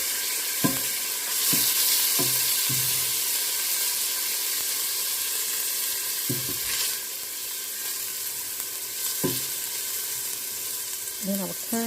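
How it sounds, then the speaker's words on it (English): Onions, garlic and bacon frying in a pan, a loud steady sizzle and hiss throughout, with occasional scraping stirs of a utensil against the pan close by. "So I added my onions and my garlic and turn it around."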